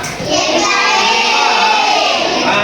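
Schoolchildren in a classroom clap and shout for a classmate, a loud, dense burst of hands and young voices that holds steady throughout.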